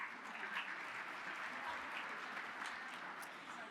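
A crowd at a Business Women of the Year awards event applauds its sponsors, steady clapping throughout heard somewhat distantly with a faint murmur of voices beneath.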